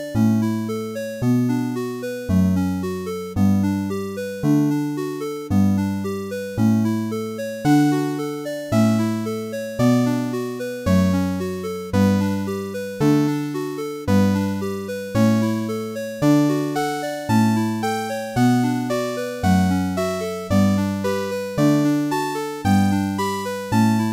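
Chiptune music from a Commodore C64 SID chip plays alone as a bright, buzzy electronic loop with a steady pulsing bass and stepping arpeggiated notes repeating in even bars throughout.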